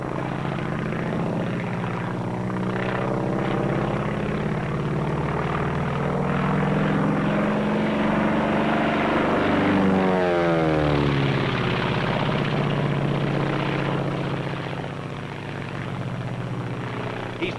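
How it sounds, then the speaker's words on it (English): A World War 2 propeller training aircraft takes off, its engine a steady loud drone that swells and shifts pitch as it climbs past, with no voices. "Now let's just watch this takeoff."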